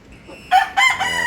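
A yellow-legged gamefowl rooster, about 11 months old, crows loudly and close by, one long harmonic call with a brief break, rising out of quiet background.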